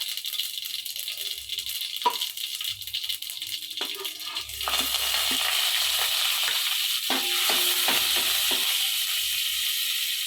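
Mustard seeds, cumin and asafoetida tempering in hot oil: quiet sparse crackles at first, then a sudden louder sizzle with scattered pops and rattles, close by with no speech.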